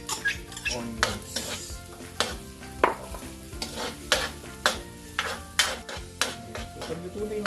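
Onions sauté in a pan for spaghetti sauce, a spatula scraping and clacking against the metal in a steady rhythm of sharp strokes over a low sizzle, with no talking.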